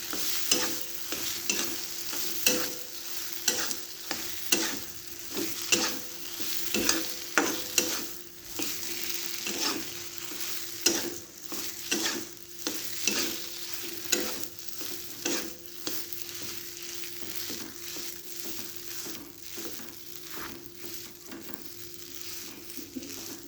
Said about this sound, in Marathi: तेलामध्ये गरम करून घ्यायचे दोन तीन मिनटं लगेच आपल्याला काढून घ्यायची